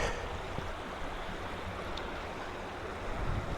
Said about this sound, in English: we got the water flowing right by us